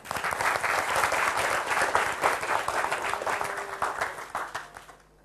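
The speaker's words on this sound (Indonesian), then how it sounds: "Tepuk tangan" Audience applause at an Indonesian campus talk show, a dense burst of clapping that swells quickly, holds steady for several seconds, then thins out and fades to quiet.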